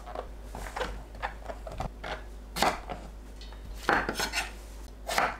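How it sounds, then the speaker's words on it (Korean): Kitchen knife cutting both ends off an eggplant on a board, several sharp close taps and scrapes in an uneven rhythm over faint background hum. "가지는 양끝을 자릅니다."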